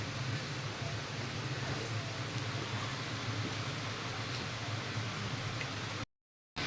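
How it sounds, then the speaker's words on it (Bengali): Heavy rain pours down steadily during a power cut, a dense, continuous hiss of downpour that stays loud and even throughout before cutting off abruptly near the end. "আর আওয়াজ শুনলে আপনারা এমনিও বুঝতে পারবেন প্রচণ্ড জোরে বৃষ্টি হচ্ছে।"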